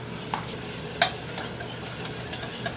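A thick hollandaise-style sauce simmers in a small pan while being stirred, a low steady bubbling hiss with a few light clinks of utensil against the pan, one of them sharper.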